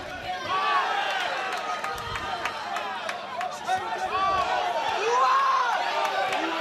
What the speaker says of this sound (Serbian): Čujemo i publiku koja navija za njega.